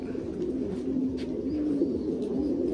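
Thai Titan pigeons coo in a continuous, rolling murmur, several birds overlapping at close range, with faint chirps scattered through and no voices.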